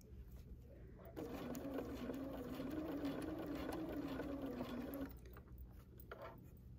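Sewing machine stitching a quilt block. It runs as a soft, steady whirring burst of about four seconds between quieter pauses, faint and close by.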